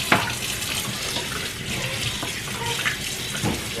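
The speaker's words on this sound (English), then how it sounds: "Let's rinse these bad boys off with some cold water." Cold tap water runs steadily into a kitchen sink as lamb chops are rinsed under it, a close, continuous splashing hiss with a few louder spatters.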